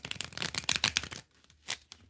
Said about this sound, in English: The cards are resistant to shuffle for you.